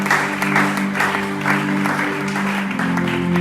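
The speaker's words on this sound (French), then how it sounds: "Quelqu'un acclame très fort pour le Seigneur." Church congregation applauding and cheering, a broad wash of clapping in rhythmic bursts, with sustained tones from a keyboard or organ underneath.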